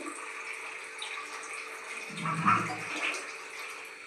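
Filtered water is poured for cooking dal, a soft, brief gush near the middle against an otherwise quiet indoor background.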